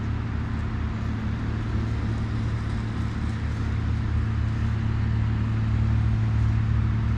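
A steady, heavy vehicle rumble, likely a tack truck working on a closed-off road near farmland, holding a continuous low droning engine note with little change throughout.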